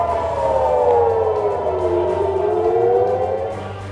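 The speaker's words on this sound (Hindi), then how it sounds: "लेबनान से लगे इजरायली इलाके में लगातार सायरनों की आवाज गूंज रही है।" An air-raid siren wails in an Israeli area bordering Lebanon, its long rising-and-falling tone sweeping loud and steady before fading slightly at the end.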